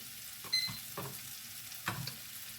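Bell pepper pieces frying in a pan for a Thai green curry chicken with coconut milk, a low steady sizzle broken by a few scraping stirs of the spoon, close and quiet.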